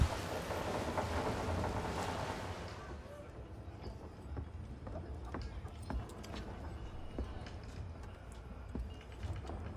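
Heavy rain pouring down at sea on the Atlantic Ocean in Assassin's Creed III Remastered, a dense loud downpour at first that thins into softer pattering with scattered drops.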